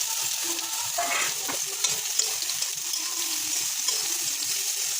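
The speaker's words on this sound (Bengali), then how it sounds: "তেলের মধ্যেই আমি এখন সোয়াবিন ভেজে নেব।" Soybean chunks frying in hot oil with a steady, close sizzle, broken by intermittent scraping and stirring knocks from a utensil in the pan.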